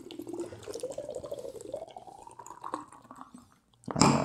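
Snip Snap, a Citra Galaxy double dry-hopped double IPA from Sapwood Cellars, pours from a can into a glass, the liquid gurgling with a glugging tone that climbs steadily in pitch, then a brief pause and a loud fizzing splash at the end.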